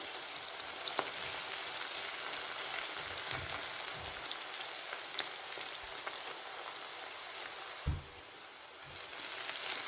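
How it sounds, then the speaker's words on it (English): Chopped onions fry in hot oil for chicken angara with a steady, crackling sizzle. A few soft stirring knocks break in, and a louder scrape comes near the end. Nobody speaks. "Fry the onions until golden brown."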